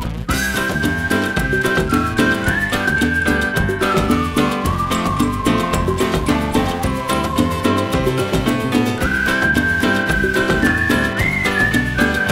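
A melodic whistled tune in a song carries steadily over a full band accompaniment, sliding between sustained notes throughout.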